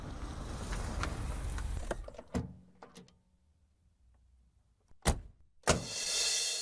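A car rolls along and then brakes to a halt. Its engine and road rumble fade into near silence, and a few sharp clicks and door thuds follow. Another loud thud closes the scene as a hiss of movement starts up again.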